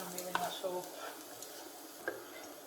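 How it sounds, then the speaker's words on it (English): Onion and garlic sweat gently in a pan, with a faint, soft sizzle and a few light stirring scrapes heard up close at low volume. "sweating off, or sweating your onion and your garlic"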